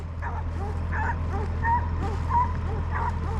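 Several dogs yip, whimper and bark at a distance in a repeating pattern over a steady low hum, with no talk over them.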